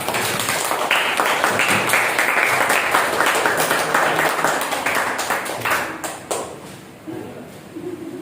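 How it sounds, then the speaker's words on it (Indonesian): Classroom applause during a lesson on conflict, a dense burst of clapping from students that fills the room for several seconds, then thins out into scattered claps and voices as it fades. "Tepuk tangan buat kita semua dong."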